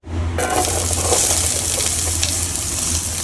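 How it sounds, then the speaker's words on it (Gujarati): Onions sauté in oil in a kadai, a loud and dense close-up sizzle that starts abruptly and holds steady throughout, with no voices. "ડુંગળીને આપણે સાતળી નાખવાની છે"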